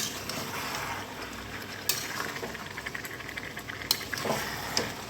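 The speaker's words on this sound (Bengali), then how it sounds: "মাংসটা দিয়ে ভালো করে কষিয়ে নেব।" Chicken pieces for chicken chap are stirred and browned in a pan, with a soft frying sizzle under scattered scrapes and clinks of the spoon, fairly quiet and close, no voices.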